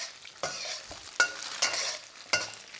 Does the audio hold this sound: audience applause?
no